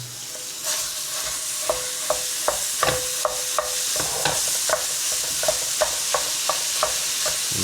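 Ground beef browning in a pan for crispy tacos gives a steady close-up sizzle, with repeated sharp scrapes and clicks of a utensil stirring the meat. No one speaks.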